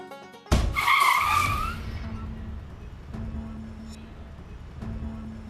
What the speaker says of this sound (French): Il a percuté la voiture. On a eu un accident.